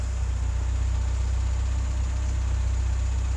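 A restored 1973 VAZ 2102 Zhiguli with its original four-speed gearbox idles steadily, a low, even engine rumble with exhaust running, close by and with no voices.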